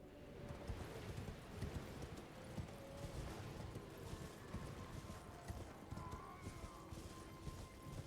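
A horse's hooves clip-clop steadily and continuously at a quick trotting rhythm in the open-world video game Elden Ring, with a low background hum and no speech.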